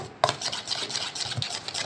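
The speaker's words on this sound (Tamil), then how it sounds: "இப்போ கொஞ்சோண்டு நெய் ஊற்றிட்டு நல்லா மிக்ஸ் பண்ணி விட்ருங்க" A spoon scrapes and stirs ghee into soft dal rice in a pot, a brief repeated rubbing sound close by with a light clink.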